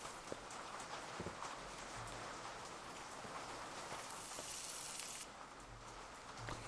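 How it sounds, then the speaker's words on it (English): Steady rain falls in a food sim horror video game, a soft continuous hiss with scattered drops and a few faint taps, no talking. "Oh, mister, I love the smell of rain."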